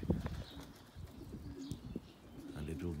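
A young pigeon coos softly after its first flight, low throaty cooing notes close by with a faint chirp and some rustling in the background.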